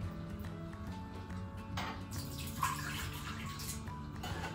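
Pre-boiled water poured into a Crockpot Express pressure cooker, a soft steady splashing trickle with a brief louder gush midway, fairly faint and without talk.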